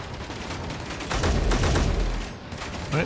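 Loud, dense video game gunfire, a continuous burst of rapid shots that swells in the middle and tails off, close and dominant with no talking.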